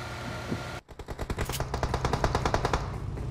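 Rapid automatic gunfire in a shooter video game starts abruptly after a brief quiet moment, then rattles on in a fast, even burst, loud and close, with no talk.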